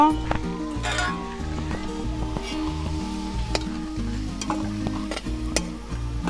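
Chicken kosha sizzles steadily in a pan while it is stirred, with scraping and clinking of the spoon against the pan over continuous frying crackle.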